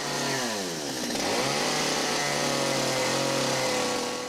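A loud chainsaw roars continuously up close while carving a wood sculpture, its engine pitch dropping as it bites into the wood and then holding steady while cutting.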